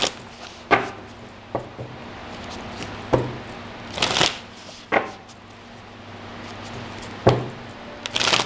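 Tarot cards are shuffled by hand. Several separate riffles and soft slaps sound close and fairly loud, scattered irregularly with quiet gaps between them and no talk.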